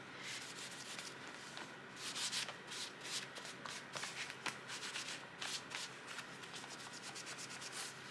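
Cloth or bag material rubbed steadily with rubbing alcohol to lift smeared pen ink, a continuous close scrubbing and swishing with rhythmic strokes, heard alone without talk.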